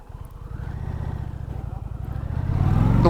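A 2020 Indian Challenger motorcycle engine runs smoothly while riding, its low, steady throb building gradually in loudness and pitch as the bike accelerates, close and prominent.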